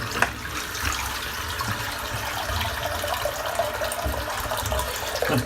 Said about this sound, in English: I'll get that rinsed out.